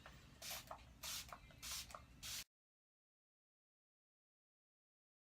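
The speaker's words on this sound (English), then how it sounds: "So I'm gonna spray my whole face with this basically." Four quick bursts of makeup setting spray hiss in a steady rhythm, misted over a face close by, followed by silence.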